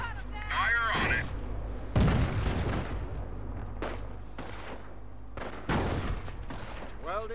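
Battlefield gunfire in Company of Heroes, several sharp cracks and booming bursts scattered across a few seconds, mixed with unit voices and mechanical noise.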